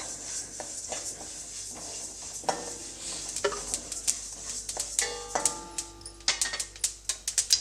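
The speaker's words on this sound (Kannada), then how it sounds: "ಇವಾಗ ನಾನು ಎಳ್ಳು ಹಾಕ್ಕೊಳ್ತಾ ಇದ್ದೀನಿ ನಾನಿಲ್ಲಿ ಬಿಳಿ ಎಳ್ಳು ತೊಗೊಂಡಿದ್ದೀನಿ" White sesame seeds roasting in a pan, a quiet scatter of light ticks and clicks that grows into sharper, closer tapping and scraping of a utensil on metal toward the end.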